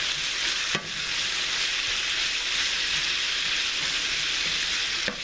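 A pound of bacon sizzles and crackles steadily in a hot pan, a dense, close, continuous frying hiss with a couple of brief clicks, and no voices.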